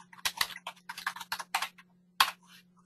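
Fingers type on a computer keyboard nearby, quick irregular clicks in short bursts with a brief pause before a final keystroke, and no talk over it.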